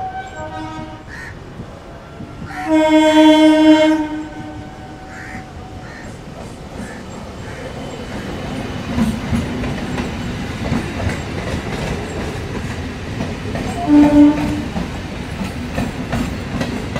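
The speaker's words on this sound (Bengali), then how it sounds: "ট্রেন ফাইনালি ছেড়ে দিল, প্রায় 15 মিনিট মতো লেট আছে এখনও ট্রেন।" The Howrah Jan Shatabdi Express pulling away from Howrah and gathering speed, a deep rumble with a rhythmic clickety-clack of wheels heard from inside, while crows caw in the background.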